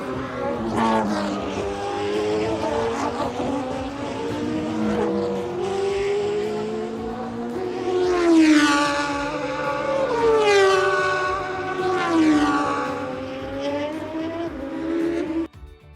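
Formula 1 cars race at the 1989 Japanese Grand Prix, captured from the grandstand: high-pitched engines wail continuously, with several cars rising and falling in pitch as they pass close by in quick succession. No voices are heard.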